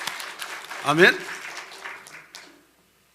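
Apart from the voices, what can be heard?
church congregation applause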